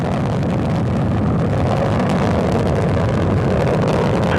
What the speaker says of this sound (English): All engines at full thrust.